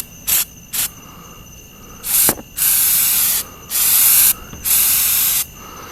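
Undercoating sprayed from a can onto the body metal of a Suzuki Samurai: two quick hissing bursts, then several longer sustained sprays, close and fairly loud, with no talking.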